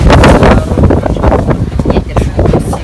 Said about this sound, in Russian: Ветер сегодня.